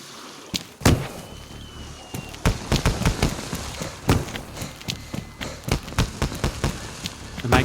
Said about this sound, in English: They make quite a lot of noise and there's a lot of light coming from them.